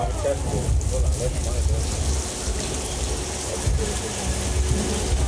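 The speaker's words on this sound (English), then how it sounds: "can I get some rain, please?" Rushing, steady artificial rainfall from a studio tour effect patters down over a low rumble, with voices faintly audible beneath the downpour.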